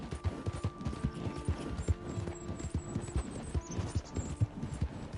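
Horse hooves in Red Dead Online clip-clop in a steady rhythmic gait, close and moderately loud, with a faint hum and high-pitched ambient tones in the background.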